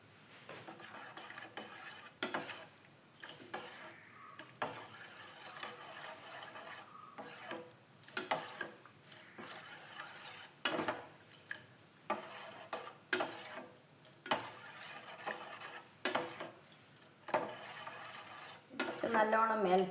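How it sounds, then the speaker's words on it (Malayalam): Melting china grass (agar) is stirred in a pan, making repeated scraping and rubbing strokes of a utensil against the metal. The strokes come in an irregular rhythm with a few louder knocks, close by and with no voices. "ചൈന ഗ്രാസ് വെച്ച് അപ്പോൾ നമുക്കത് ഇളക്കി കൊടുത്തുകൊണ്ടിരിക്കാം."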